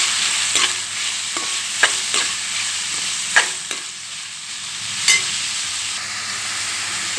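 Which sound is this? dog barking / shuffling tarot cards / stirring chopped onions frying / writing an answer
stirring chopped onions frying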